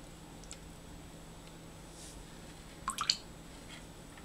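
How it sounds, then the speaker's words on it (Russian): Water dripping from the pump of a Braun OxyJet MD20 oral irrigator, a few small quick drips in a cluster against quiet background hiss. "Видите, вот капли пошли."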